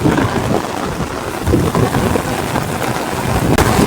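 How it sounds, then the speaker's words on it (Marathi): Heavy rain pours down steadily with a gusting wind roar, a dense, loud wash of noise lasting throughout with no voices. "मंडळीनं जोरदार वारो आणि पाऊस चालू झालेलो असा बघा."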